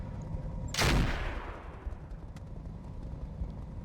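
Weapon fire in the video game BattleTech RogueTech: a single loud, sharp blast early on with a rumbling decay, followed by a steady background of battle noise.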